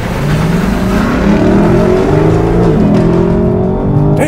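A 2024 Lexus LC500's engine roars hard as the car launches from a standstill, the revs climbing steadily and shifting up through gears, loud and close from inside the cabin.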